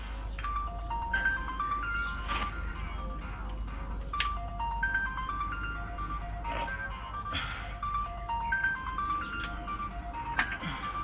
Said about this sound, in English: Oh, whoever's ringing me can go away.